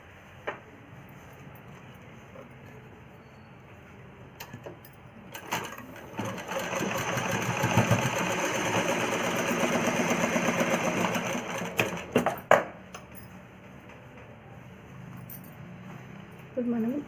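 A sewing machine stitches pieces of a child's umbrella frock together in a steady mid-clip run of whirring, framed by quieter handling clicks, with someone speaking around it.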